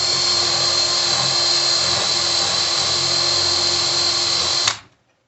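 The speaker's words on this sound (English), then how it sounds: "Very carefully locate my drill and drill." A power drill whines steadily at high speed as it bores a hole into a bench leg, running loud and unbroken for several seconds before spinning down abruptly.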